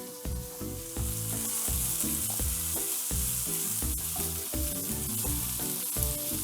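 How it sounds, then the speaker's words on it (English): Sliced red, yellow and green bell peppers and garlic cloves fry in a pan with a loud, steady sizzle, joined by irregular clatter from stirring throughout. "I'm going to put half a red, half a yellow, and half a green pepper in there, plus 3 cloves of garlic"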